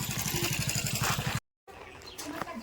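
A motorcycle engine putters with a rapid, regular throb, cuts out briefly to silence, then a faint outdoor hum and rustle follow.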